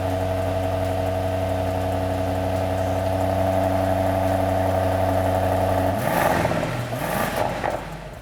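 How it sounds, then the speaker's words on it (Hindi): An Aston Martin DBX SUV engine idles with a smooth, steady, close hum before the driver blips the throttle near the end, bringing a brief rising rev and settle; no voices. "इसका इंजन नोट भी किसी ऑर्केस्ट्रा से कम नहीं है"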